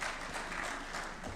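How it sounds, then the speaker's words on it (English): Audience clapping for Francis Atwoli at a live national event, a brief, dense burst of many hands applauding at steady volume. "A clap for Francis Atwoli."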